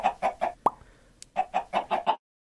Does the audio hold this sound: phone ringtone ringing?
no